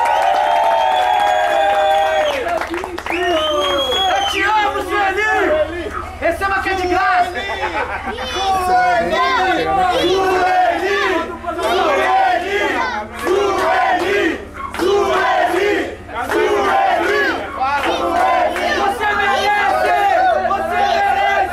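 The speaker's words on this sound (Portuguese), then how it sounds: "Então uma salva de palmas pra Sueli, galera." A large crowd cheers, shouts and claps for Sueli at a lively gathering in the Horto Florestal area of São Paulo's north side, a dense, continuous roar of voices and applause that keeps going without a break.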